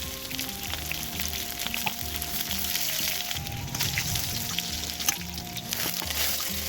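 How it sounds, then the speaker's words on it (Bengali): Pointed gourd (potol) fries in hot oil, sizzling and crackling steadily up close with uneven pops and bubbling bursts. "এবারে ওই তেলের মধ্যেই বাকি যে পটলগুলো ছিল পটলগুলোকে আমি ভেজে তুলে নেব।"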